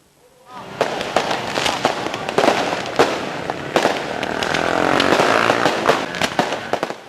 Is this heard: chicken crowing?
no